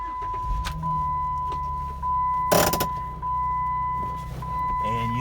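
A 2010 Jeep Wrangler Sahara with a 3.8L engine and six-speed manual starts up: a brief cranking burst around the middle, then a steady idle rumble with a persistent high chime tone, faint clicks and rustling nearby.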